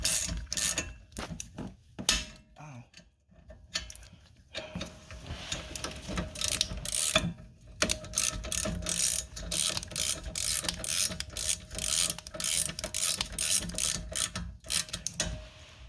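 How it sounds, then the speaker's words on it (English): Ratchet wrench turning the bottom rear brake hardware bolt on a 2016 Honda Civic LX sedan with electronic parking brake, giving long runs of rapid close clicking with brief pauses, loud and continuous with no talk. "starting the bottom one, just ratchet away."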